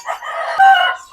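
A peacock-coloured rooster gives a single loud, close crow that lasts about a second, with no other sound around it.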